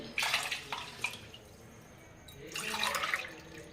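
Water is poured glass by glass into a cooking pot for moong dal khichdi, in two splashing bursts near the start and a longer pour toward the end, with quiet gaps between.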